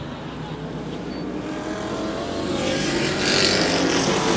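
Race cars roar off the starting line in a super short track race, a dense wall of engine noise that swells louder as they accelerate away together.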